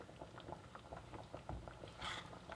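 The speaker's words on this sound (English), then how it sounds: "so you keep going until it's bubbling like this." Peaches cooking down in a pan on the stove for a homemade cobbler, giving a soft, steady bubbling and popping with small irregular patters, faint and close, with no talk.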